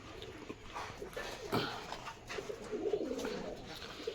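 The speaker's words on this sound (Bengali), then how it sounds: "এই যে পায়রাগুলো চলে আসছে দেখো" Pigeons coo as they come down to eat rice scattered on the ground beside street dogs. Soft, close cooing mixes with a dog's brief whimpers and light outdoor ambience.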